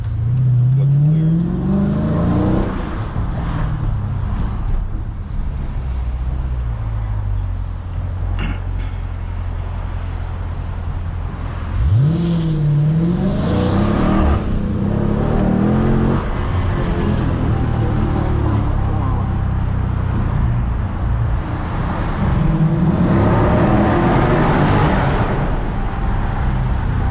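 A 2022 Dodge Challenger Scat Pack Widebody accelerates hard from inside the cabin, its engine rising and falling through several pulls with steady road rumble, while people talk throughout.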